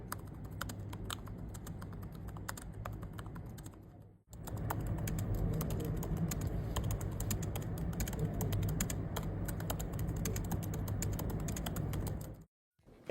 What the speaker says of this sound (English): here's how it sounds when compared to a MacBook Air keyboard.